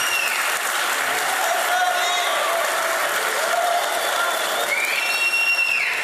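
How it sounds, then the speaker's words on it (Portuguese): Wedding guests at a church ceremony burst into loud, steady applause with scattered cheers and whoops, a dense crowd sound filling the whole stretch without pause. "Pode aplaudir."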